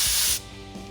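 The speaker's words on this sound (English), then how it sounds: "when we spray the glue on this panel, I'm going to try not to get any on the foam" Spray glue from an aerosol can is sprayed onto a car interior panel near foam during a Buick Regal G-body rebuild. A sharp, close hiss lasts under half a second and then cuts off into quiet room tone.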